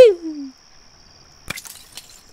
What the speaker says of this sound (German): Die zerbrochene Glasflasche.